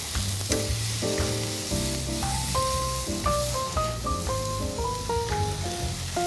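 Pork tenderloin and onions sizzle on a barbecue grill, a steady close hiss running the whole time beneath a prominent melodic music track.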